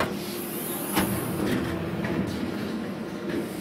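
A Hyrel HYDRA 3D printer lowers its bed with a steady mechanical motor hum and whir, heard close and continuous for several seconds with a few faint clicks, and no talking.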